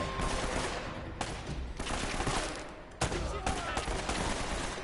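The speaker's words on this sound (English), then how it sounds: "who's shooting me?" Gunfire in the action game Uncharted: sustained automatic bursts come in several loud clusters, separated by short breaks near one, two and three seconds. No one speaks.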